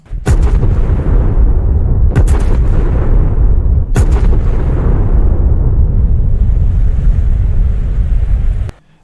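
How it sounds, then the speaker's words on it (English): Huge 510mm naval guns from the PC version of World of Warships fire three deep, booming salvos in quick succession, each followed by a heavy rolling rumble that carries on continuously until it cuts off abruptly near the end. "this is what it would sound like if we were using the PC sounds of 510mm guns in"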